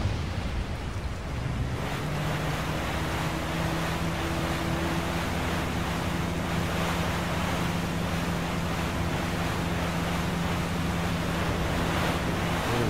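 Rushing waterfall in the Resident Evil 4 video game, a steady broadband roar of falling water with wind-like noise, continuous and fairly loud throughout, with a low tonal hum layered underneath.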